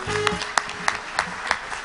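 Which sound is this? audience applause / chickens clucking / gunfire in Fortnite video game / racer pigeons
audience applause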